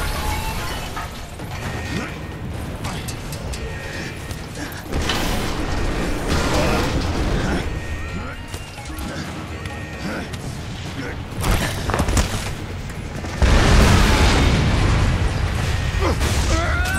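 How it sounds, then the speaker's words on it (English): Gravity core generators detonating in Bulletstorm, a dense mix of booms, mechanical creaks and crashing bursts that builds to a heavy blast near the end, with a voice talking over the din. "I predict an imminent detonation within the gravity core generators."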